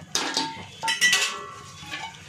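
Metal spoon scraping and clinking against a pan while dry fruits are stirred into hot jaggery syrup for laddu, a few quick clanks and rattles close by.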